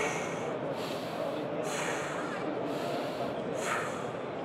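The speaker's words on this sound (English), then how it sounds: "you can exhale and inhale" A person breathes out and in audibly in front of a radar sensor at a trade show, three or four loud rhythmic breath cycles up close over a steady hall murmur.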